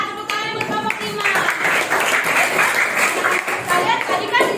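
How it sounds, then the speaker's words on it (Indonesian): A classroom of students clapping for a student group, a brisk burst of many hands close by, mixed with voices and chatter. "Tepuk tangan buat kelompok 5."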